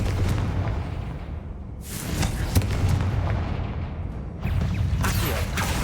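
A Confringo fire spell erupts in the Hogwarts Legacy video game as a series of booming blasts, with a strong burst around two seconds and another near four and a half, over a steady rumbling bed of game noise.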